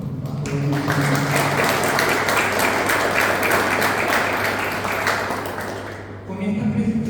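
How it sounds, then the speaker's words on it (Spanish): A crowd at a poetry book presentation breaks into strong applause, loud dense clapping that swells in and holds for several seconds before tapering off. Sustained tones and voices sound faintly beneath it, and the sound drops away near the end. "Se merece un fuerte aplauso a todos los"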